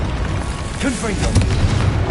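An explosive boom from a Confringo spell in Hogwarts Legacy on PS5, a rumbling blast layered with game effects, with a voice calling out spell names over it.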